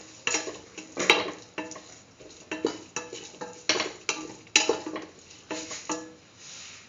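A spoon scrapes and clinks rhythmically around a pan while cumin powder is mixed into a tomato stew, steady repeated strokes close up with a faint sizzle underneath and no talking.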